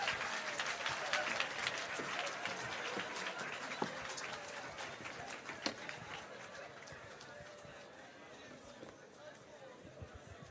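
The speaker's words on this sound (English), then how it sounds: "One more round of applause for Leighton Smith." Audience applause at the Prime Minister's Medal of Appreciation for Service to Education award ceremony, a steady dense clapping from a large crowd that lasts the whole stretch, with faint voices mixed into the din.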